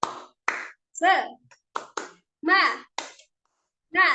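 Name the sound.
children clapping a rhythm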